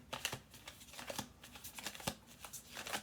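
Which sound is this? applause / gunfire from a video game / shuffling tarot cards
shuffling tarot cards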